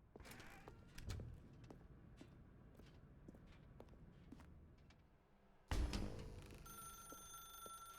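A telephone in The Stanley Parable 2 video game starts ringing partway through with a bright, sustained electronic tone. It follows a stretch of faint scattered clicks and footsteps, and no voices are heard.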